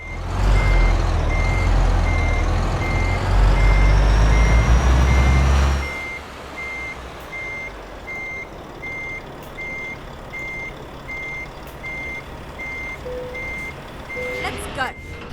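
Reversing beeps from a truck hitching a trailer in Euro Truck Simulator 2 repeat at an even rhythm. A loud engine rumble drops away after the first few seconds, then the steady beeping carries on over quieter idling.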